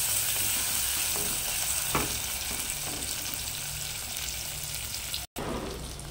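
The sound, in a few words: green chillies and onions frying in a pan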